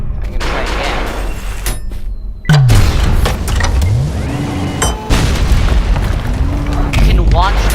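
Rockets launch and blow up in Ultrakill, game-style, with dense booming blasts and whooshing pitch sweeps layered over constant loud action noise, and a sharp explosion burst near the middle.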